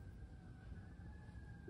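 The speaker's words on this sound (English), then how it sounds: "there's some real sirens going on outside." Emergency sirens wail outside a home, a steady distant tone that stays faint and continuous under a low background rumble, with no talking.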